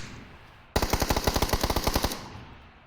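Video game gunfire rips out as a single loud automatic burst of about fifteen rapid, evenly spaced shots lasting roughly a second and a half, then a fading tail.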